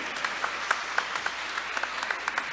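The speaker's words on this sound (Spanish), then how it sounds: "Dale un aplauso al Señor." A church congregation applauds in praise, with steady moderate clapping and a few sharper individual claps standing out from the room.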